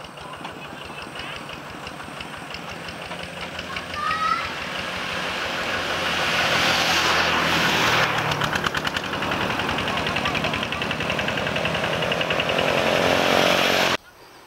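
A rough, knocking diesel engine of a local tractor-like vehicle in Asia chugs nearby, growing louder as it revs and runs steadily before cutting off abruptly at the end.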